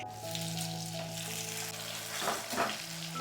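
Ginger garlic paste sizzles in hot mustard oil alongside tomato and onion, a steady close frying hiss with a few brief stirring scrapes near the end.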